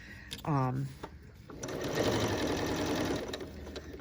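A sewing machine stitching sheer curtain fabric, a close, steady mechanical whirr running for a couple of seconds after a short burst of speech, with faint clicks as it stops.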